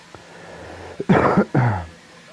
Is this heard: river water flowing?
no